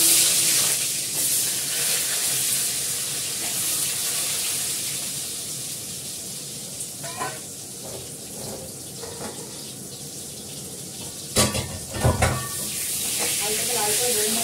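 Potatoes fry in hot oil, giving a steady broad hiss throughout, with a few soft clatters midway and sharper clanks of a utensil near the end.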